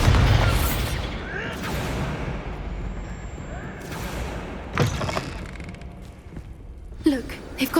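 A Bombarda spell explosion in Hogwarts Legacy: a deep booming blast at the start followed by rumbling debris, then a few sharper thuds and pops later, with talk in between.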